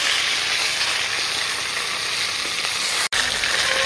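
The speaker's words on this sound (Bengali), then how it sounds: "এইরকমভাবেই কিন্তু সব মাছ ভেজে নেব" Pangas fish frying in oil in a wok, giving a loud, continuous close-up sizzle that holds steady with one brief dropout near the end.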